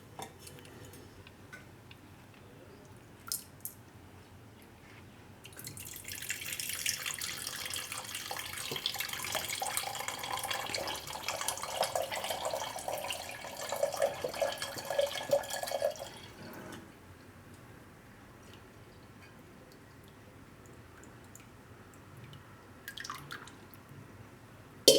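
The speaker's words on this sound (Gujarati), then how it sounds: "આ રીતે આપણે જારી ઉપર કપડું રાખી લેવું ને આમાં આપણે શરબત ગાળી લેવું" Paan sharbat drips and trickles through a cotton cloth into a jar, a soft steady pouring patter for about ten seconds amid faint clinks, quiet and close.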